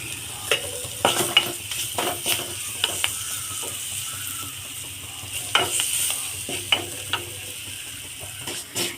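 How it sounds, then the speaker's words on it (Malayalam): A spoon stirs a tapioca and egg mixture in a frying pan, seasoned with chilli powder. It scrapes and clinks in irregular strokes over a steady soft sizzle. "നന്നായിട്ട് ഇളക്കി കൊടുക്കാം"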